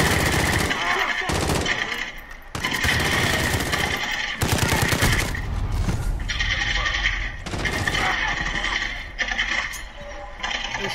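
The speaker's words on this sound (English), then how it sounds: "Can't you hear the shooting?" Rapid gunfire bursts from a sniping match against bots in a video game, loud sharp cracks repeating in clusters across the whole span, with a voice speaking over parts of it.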